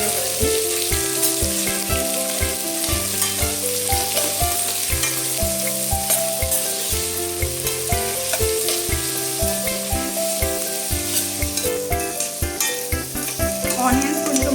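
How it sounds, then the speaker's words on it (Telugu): Onions frying in oil for a paneer biryani, a steady sizzling hiss that runs continuously beneath louder background music with no pauses. "ఆనియన్స్ బాగా ఫ్రై అవ్వాలి."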